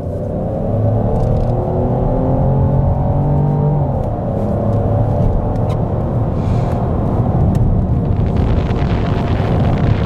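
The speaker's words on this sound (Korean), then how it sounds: "M 버튼을 눌러서 매뉴얼 모드를 활성화를 하겠습니다. 이 상태에서 한번 가속을 진행해 볼게요." A Peugeot 3008 with the 1.2 PureTech engine accelerates in sport mode with manual shifting; the engine note climbs in pitch through the gears, loud and steady, with road rumble and no talk.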